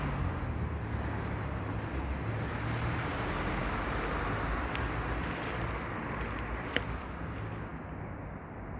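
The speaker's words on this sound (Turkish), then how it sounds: "Arabaların sesi." Morning commuter traffic heard from a distance, a steady faint roadway hum of passing cars with light wind noise and no talk.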